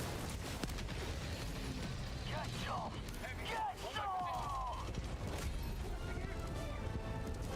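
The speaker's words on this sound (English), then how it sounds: "Laser turrets doing some work." Laser turrets fire in a video game with quiet, sweeping electronic chirps and mechanical clatter, set low under a continuous game soundscape and voices talking.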